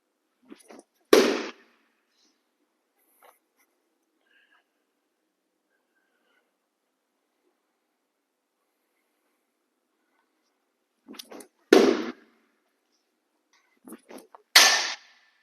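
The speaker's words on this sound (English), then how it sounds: "Hear the seams on the baseball. Good loud pop on the target." A thrown baseball smacks into a target with loud, sharp pops, one early and two more close together near the end, each a crisp isolated impact separated by near silence.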